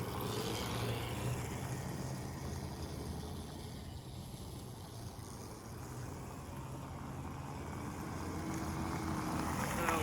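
A very fast minibike is ridden down the road at full throttle in first gear, giving a steady, muffled engine drone mixed with wind rumble, moderately distant and fairly faint, with no clear pauses.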